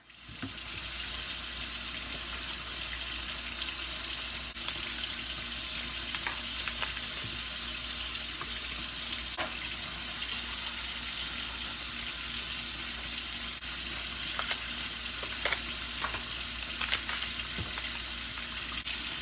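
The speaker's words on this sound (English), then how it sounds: "I'm just stirring up the red dye I put in there." Red fabric dye being stirred in a pot of hot, salted water, giving a steady broadband watery swish and sizzle-like hiss with occasional light clinks and splashes throughout, with no talking.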